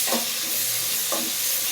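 Chopped onions and chillies sizzle in a hot pan while being stirred, a steady close hiss with two brief scraping stir sounds, as the base for a bottle gourd and hilsa fish curry; no voices.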